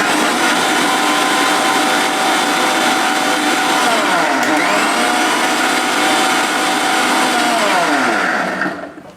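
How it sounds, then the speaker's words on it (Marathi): An electric blender whirs loudly and steadily, mixing a glass of milk with dates into a dates milkshake, its motor pitch dipping briefly midway before the run winds down at the end. "आणि त्यानंतर एकदा पूर्ण मिक्स करून घ्या दूध."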